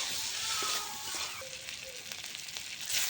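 Chilli powder, turmeric and ginger-garlic paste fry in a pan, a steady hissing sizzle, close and continuous, with faint stirring and no voices.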